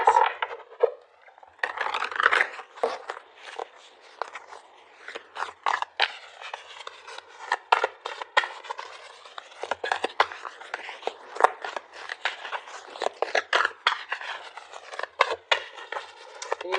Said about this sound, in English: So let's pull a couple of cards to get clarity on that.